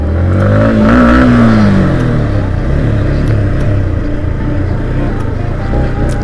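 A new Yamaha MT-15 motorcycle engine revs up loud and close, pitch climbing then falling back, before settling into a rough, steady engine drone.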